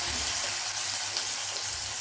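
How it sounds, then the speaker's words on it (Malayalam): Yam pieces fry in hot sunflower oil over a medium flame, giving a loud, close, continuous sizzle and crackle with no talk. "ചേന ഇട്ട് കൊടുക്കാം. ഒരു മീഡിയം ഫ്ലെയിമിൽ വെച്ചിട്ട് നമുക്ക് ഇത് ഫ്രൈ ചെയ്തെടുക്കാം."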